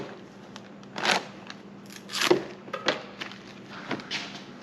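Velcro strips are peeled away from outdoor rope lights in a wood boiler shed, a few short rasping tears close to the microphone separated by brief pauses.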